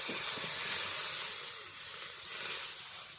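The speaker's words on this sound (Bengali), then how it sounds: "প্রথমেই আমি কড়াই বসিয়ে তার মধ্যে জল দিয়ে দিচ্ছি" Water hits a hot wok on the stove and gives a continuous, close, broadband hiss like steam, swelling and easing slightly over about three seconds, with no voices.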